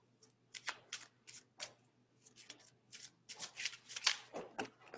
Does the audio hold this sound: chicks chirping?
no